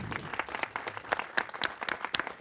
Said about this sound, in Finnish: annetaan aplodit, Petteri Nummelin.